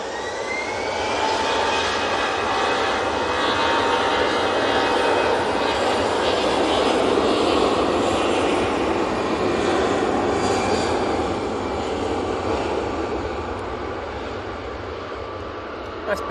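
A TUI Boeing 787 Dreamliner at Manchester Airport gives a loud, steady jet engine roar that holds for the whole stretch, with a person talking over it.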